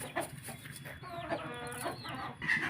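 Chickens clucking on a farm where the flock is fed probiotic photosynthetic-bacteria water, with a steady run of overlapping clucks and short calls close by, no talk.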